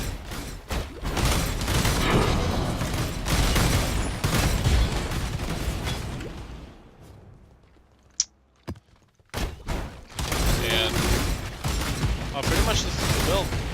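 A Barrage Archer in a video game fires volleys of bow shots in a dense, rapid barrage of thuds and impacts, loud and continuous, drops to a near-silent gap with a few isolated hits, then the barrage starts again.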